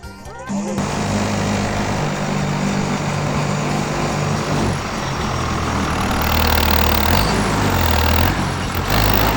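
A tractor engine runs steadily and loud on a farm plot, a continuous close mechanical drone with a low rumble that swells slightly toward the end, with no talk over it.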